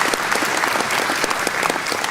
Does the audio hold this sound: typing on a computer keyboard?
no